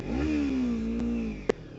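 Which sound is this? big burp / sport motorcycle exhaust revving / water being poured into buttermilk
sport motorcycle exhaust revving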